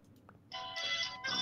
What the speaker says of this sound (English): Sorry. That's phone going off.